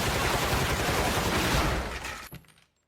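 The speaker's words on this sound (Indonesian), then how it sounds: "memakai peralatan modern yaitu Gatling gun yang dapat melepaskan beberapa peluru dalam satu kali tembakan" A Gatling gun in an anime fight lets off a dense, continuous roar of rapid fire that fills the space, then cuts off sharply near the end, leaving a short ringing tail and silence.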